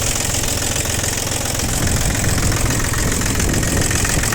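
A Japanese ISEKI TU200 four-wheel-drive tractor's mechanical three-cylinder diesel engine idles steadily and evenly up close, a continuous loud knocking chug with no voices.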